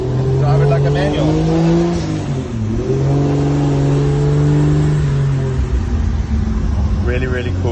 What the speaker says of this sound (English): rev the car and then let the clutch out